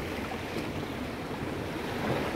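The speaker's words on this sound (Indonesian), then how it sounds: "Dari sini kita akan mendengar deburan ombak." Ocean waves surge steadily near Mata Ie Resort in Sabang, Aceh, facing the Strait of Malacca, a continuous broadband wash with some wind noise and no distinct single breakers.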